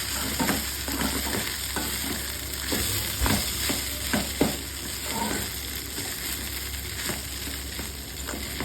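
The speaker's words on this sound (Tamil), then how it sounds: "நல்லா வெங்காயம் மிளகாய் கருவேப்பிலை எல்லாம் இதில் வந்து சாறுற மாதிரி நல்லா ஃப்ரை பண்ணிட்டு வச்சுருக்கேன்" Onion, green chilli and curry leaves sizzle steadily in a pan for idli upma, with a constant close frying hiss and scattered soft stirring knocks of a spoon, no talking.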